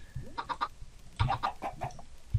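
A chicken clucking sound effect: two quick sets of close, nasal clucks, the first short and the second longer with several stuttering notes, followed by one more cluck at the end.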